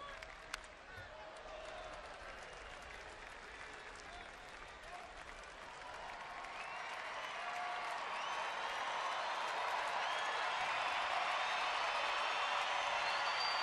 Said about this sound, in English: Petco Park crowd picks up the noise level